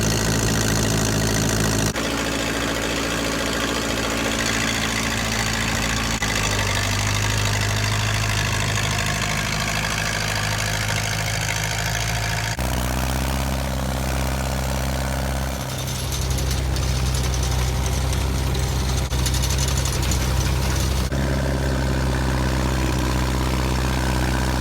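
An old snow blower engine runs in a snowstorm with a loud, rough, chattering idle, close by and continuous, its pitch shifting slightly a few times.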